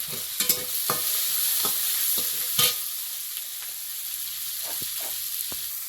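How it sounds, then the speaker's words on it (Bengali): Whole cumin seeds with chopped onion and garlic frying in oil, a steady bright sizzle punctuated by occasional soft stirring scrapes and clicks, close and without talk. "একটু গোটা জিরে দিয়েছি পেঁয়াজ কুচি রসুন কুচি তেলের মধ্যে"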